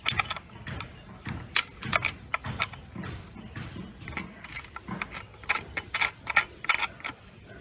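Metal-on-metal clicks and scrapes as an auto level, a surveying instrument for civil engineering practicals, is screwed onto the bolt of a tripod head, with irregular close taps and jangles and no speech.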